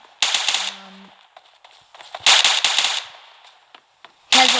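A UMP submachine gun fires in PUBG in short, loud, crackling bursts separated by brief gaps, with a quieter stretch of game ambience between volleys.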